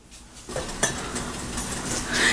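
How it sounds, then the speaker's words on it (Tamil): Mutton sautés with salt and spices in a pressure cooker, with a quiet sizzle under scraping and clinking of a metal spoon against the pot, close by and continuous. "இப்போ மட்டன் கொஞ்சம் நேரம் வதங்கட்டும்"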